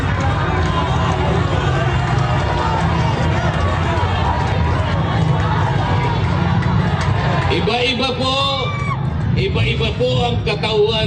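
A loud rally crowd chants and shouts the name Marcoleta, a dense continuous roar of many voices close by, with rising whoops and rhythmic shouted syllables toward the end.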